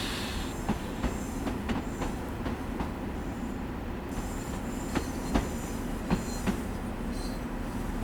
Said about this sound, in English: Some excellent sounds here of trains.